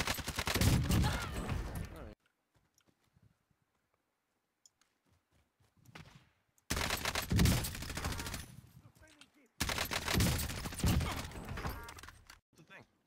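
Gunfire in the Warzone battle royale game comes in loud bursts of rapid shots, one at the start and two more later, separated by near-silent gaps.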